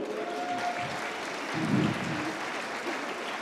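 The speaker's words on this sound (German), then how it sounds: "Das ist doch mal ein Beifall wert" An audience at a team competition event gives a steady round of applause, moderately distant and continuous, swelling slightly midway.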